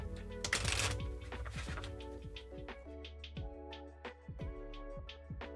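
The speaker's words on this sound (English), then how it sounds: "Not gonna shuffle these crazy" Tarot cards are riffled and shuffled close up, a burst of rapid flutters followed by a series of softer taps and snaps as the deck is handled.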